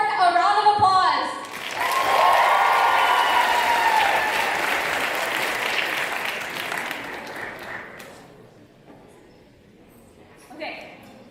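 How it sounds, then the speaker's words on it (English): Audience applause rises and fills most of the stretch as a loud, dense roar of clapping at a livestreamed show, then thins and fades toward the end; brief talk or music is heard at the start. "let's give this entire incredible board a round of applause"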